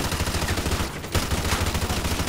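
Rapid automatic gunfire in the Call of Duty: Modern Warfare 2 campaign, a steady stream of loud, close shots with a brief pause midway before the firing resumes.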